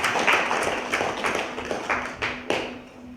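Audience members at a poetry contest award ceremony clap in scattered, distinct claps that stand out from a modest background wash, some louder hits landing near the end.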